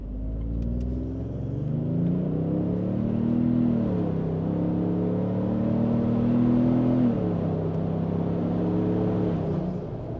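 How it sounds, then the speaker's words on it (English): Engine of a 2022 or newer Toyota Tundra with a cat-back exhaust and air intake, heard from inside the cab, revving steadily between about 4,000 and 5,000 RPM in a loud, sustained drone that rises and dips, with no talk. "Now I'm going to give it just a little bit more gas and see if I can get it to be a little bit louder"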